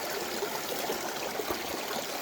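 A mountain stream on the John Muir Trail rushes over wet rocks on a rainy day, a steady close hiss of flowing water with small bubbling splashes and no voices.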